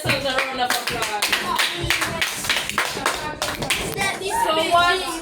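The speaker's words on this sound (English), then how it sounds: "Give yourselves a round of applause." Schoolchildren in a classroom clap together during a maths lesson, a dense, steady round of applause lasting several seconds with children's voices mixed in.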